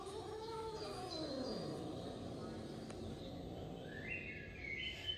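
An annoyed cat growls and yowls in low, drawn-out, wavering moans, fairly faint against a steady background, with thin chirps near the end.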